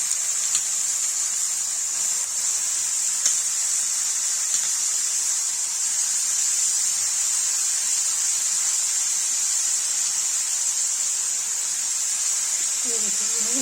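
Radish frying in hot oil after cumin crackles, for a Kashmiri fried mooli chutney, gives a steady, even hiss of sizzling that runs without pause from start to finish.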